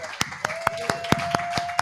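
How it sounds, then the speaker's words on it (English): About eight sharp handclaps in a steady, evenly spaced rhythm, offered as applause for a guest named Arif on a live football talk stream, with a thin steady tone running underneath. "Let's give Arif a round of applause here coming in tonight."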